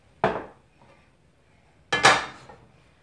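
Metal utensil striking a pan while stirring a stir fry at home, two sharp clattering scrapes about two seconds apart, close and fairly loud with quiet between.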